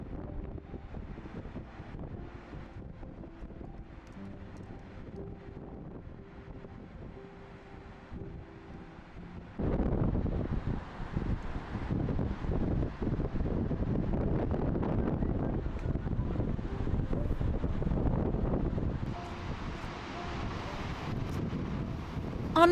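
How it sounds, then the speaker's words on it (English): Strong wind buffets the microphone at Gullfoss waterfall in Iceland on a cold, snowy day, a steady rushing roar that surges louder midway and stays heavy to the end, with no talking. "It was very windy, cold, and still snowing."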